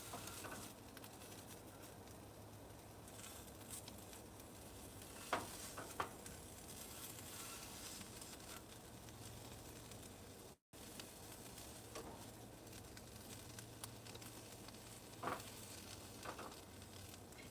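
Veggie burger pieces with peas sizzle steadily in a frying pan. The quiet, even frying is broken by a few soft scrapes and taps as the pieces are stirred and turned.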